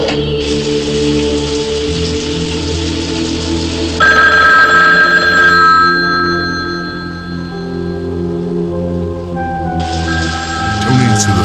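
An old telephone bell rings in the soundtrack of a 1982 film, a steady trilling ring in bursts over a hissing, rain-like background. People talk over it.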